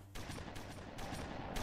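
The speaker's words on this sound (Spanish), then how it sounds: "Son muchos disparos." Rapid gunfire in a Roblox SCP roleplay video game, a fast loud burst of repeated shots rattling close by with no talk.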